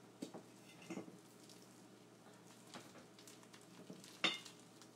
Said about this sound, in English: I've got one pound of ground turkey to a pan. I'm just going to turn that over about medium heat.